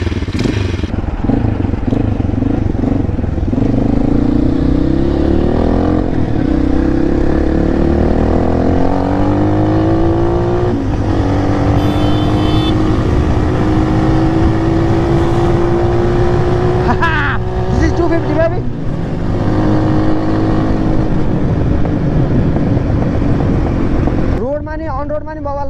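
A Motorhead motorcycle engine in Nepal runs loudly and steadily close by, its pitch climbing gradually as it revs, with a few sharper throttle bursts toward the end.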